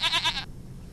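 A goat gives one short, wavering bleat that lasts about half a second, close and fairly loud, then stops, leaving quiet background.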